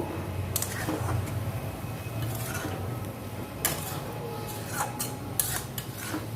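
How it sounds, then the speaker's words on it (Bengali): Fried puti fish are stirred into a spicy Bengali curry in a pan, with faint scraping and clinking of a utensil against metal in scattered knocks over low kitchen background. "এবার ভেজে রাখা পুঁটি মাছগুলো আমি এর মধ্যে দিয়ে দেব, দিয়ে একটু এইভাবে নেড়ে নেব।"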